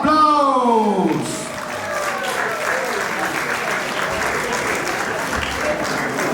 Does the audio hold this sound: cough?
no